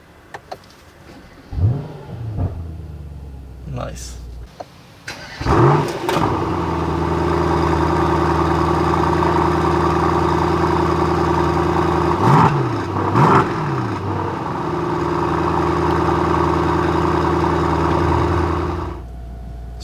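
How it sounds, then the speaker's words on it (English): A 2019 Mercedes-AMG S63 Coupe engine, in Sport Plus mode with exhaust valves open, cranks and fires up, settling into a steady, throaty idle with a couple of sharp revs midway; a brief remark is spoken. "So let's start the engine."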